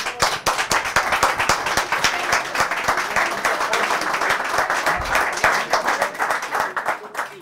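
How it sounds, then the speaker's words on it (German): A live audience at a German talk-show evening breaks into loud, close applause for a performer, many hands clapping in a brisk, uneven patter that stays strong throughout. "Viel Spaß, Applaus!"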